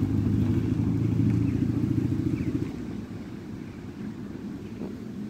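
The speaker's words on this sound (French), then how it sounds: "Un petit problème de moteur, monsieur." A faltering motor engine with a fault runs at a steady low rumble that drops and weakens halfway through, then keeps idling roughly and alone.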